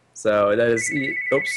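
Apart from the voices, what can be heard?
telephone ringing on a home landline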